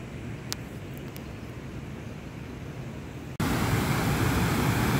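Water pouring over a dam on the Borzhava mountain river, a steady broadband roar that jumps sharply louder partway through, as if drawing closer, with no voices.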